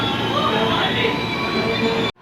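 A KRL commuter train on the Bogor Line pulls out of Tebet station, a loud steady rumble of wheels and car noise heard from inside, ending abruptly.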